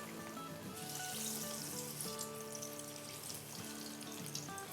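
Thick chicken pieces fry in hot oil in a pan beside cooking onions, a continuous soft crackle and hiss under a faint steady hum of background tones.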